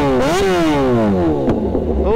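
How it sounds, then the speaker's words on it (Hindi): A motorcycle fitted with an SC Project titanium exhaust revs up and down in loud, throaty bursts, its pitch sweeping upward with each twist of the throttle, close by. "अभी गाइस इस बाइक में लगा हुआ है SC प्रोजेक्ट टाइटेनियम एग्जॉस्ट, तो अभी इसका साउंड सुनाते हैं"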